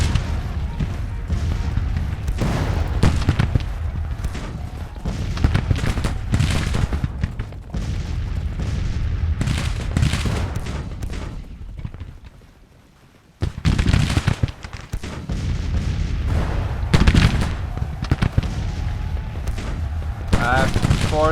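Dense musket volleys and booming artillery fill a Civil War battle video game, with continuous crackling gunfire and heavy blasts that drop away briefly near the middle before surging back to full intensity.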